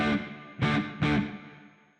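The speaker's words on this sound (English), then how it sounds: "you can go with a reverb that is shorter" Three short chords are played through a short reverb on an IK Multimedia Tonex pedal. Each struck chord rings briefly and decays quickly, close and fairly quiet with no voices.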